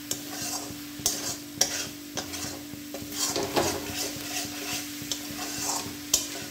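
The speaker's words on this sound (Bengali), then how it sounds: "দিয়ে আবার ভালো করে একটু কষিয়ে নেব" Chickpeas coated in chana masala are stirred and sautéed in a pan, with a gentle sizzle beneath rhythmic spoon scrapes and taps against the metal; close and moderately quiet, with no speech.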